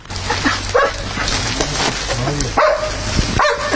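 Several German and Belgian shepherd rescue dogs bark and yip in short bursts at a search training ground, close by, mixed with whimpers and busy outdoor background noise.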